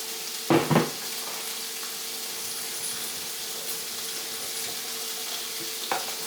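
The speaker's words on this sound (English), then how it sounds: "our bacon is sizzling away" Bacon sizzles in a pan with a steady frying hiss throughout, with a couple of sharp clatters near the start and one light knock toward the end.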